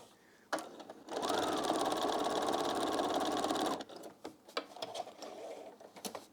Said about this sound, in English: And when we zigzag, we're going to zigzag past that bar like that.